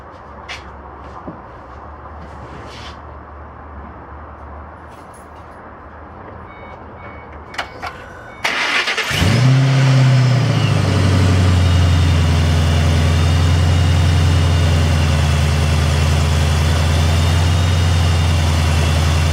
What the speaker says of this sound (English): let's see what happens when I go ahead and start the vehicle up